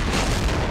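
A single loud, close gunshot boom in Counter-Strike Source on the Awp_Dust_Temple map, a dense blast filling the whole moment.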